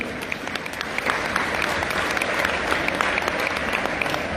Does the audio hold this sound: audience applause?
yes